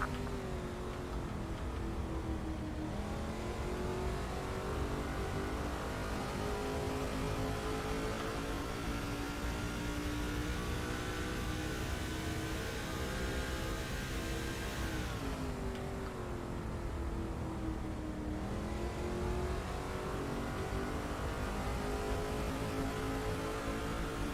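Race car engines in the NASCAR 2005 video game drone loudly and continuously, a steady high-revving whine that dips and rises in pitch around the track, with no talk over it.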